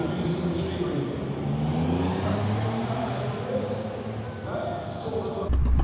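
A Triumph Rocket 3 motorcycle spins its rear wheel on an indoor drag strip launch, a loud sustained engine roar with a droning, wavering tone that rises and then ends in a sharp burst.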